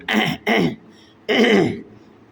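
A man gives three rough coughs and throat-clears, two quick bursts then a longer one, close and fairly loud, showing coughing during namaz prayer.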